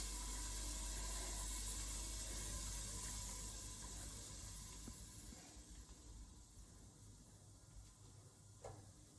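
Bitter gourd frying in a pan on a home stove, a steady loud hiss and sizzle that slowly eases, with a faint clink near the end.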